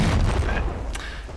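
A single deep boom from an explosion in the World War II strategy game Men of War Assault Squad 2, a heavy low-end blast that decays quickly over about a second.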